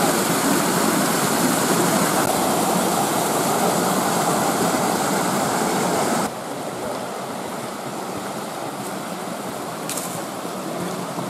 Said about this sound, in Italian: E la cascata Scoglio, dove poco fa si sono bagnati.